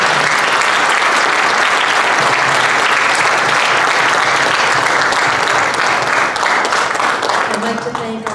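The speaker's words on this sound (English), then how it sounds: "please give them a wonderful round of applause for their amazing work" A school audience gives student performers a sustained, dense round of applause, many hands clapping steadily and loudly throughout.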